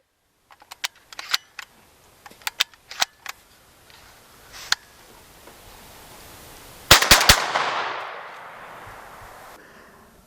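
A Beretta A300 Outlander semi-automatic shotgun fires a rapid burst of three booming shots that trail off into a long echoing decay outdoors. Scattered mechanical clicks and handling noises come first.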